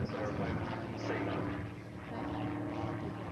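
A private sport aircraft flying an aerobatic display at the Warbirds Over Wanaka airshow, a steady engine drone rising and falling slightly as it manoeuvres, with a commentator's voice over the noise.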